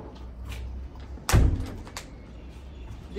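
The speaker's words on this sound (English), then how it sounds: "This is the main door." The main door of a house closes with a single solid thunk partway through, over quiet room noise with faint movement before and after.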